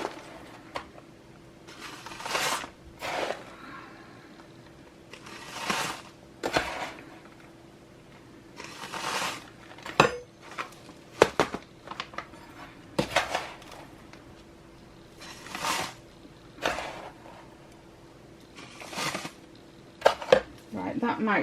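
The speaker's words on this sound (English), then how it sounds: "Just take a scoop" Rainbow bath crumble scooped into a container, repeated gritty scraping and rustling bursts with pauses between, close and moderately loud, with light clinks.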